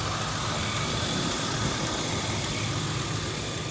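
A 1999 Ford Explorer with a 4.0 V6 engine and about 200,000 miles runs steadily, giving a continuous, even engine hum and rumble with no talking.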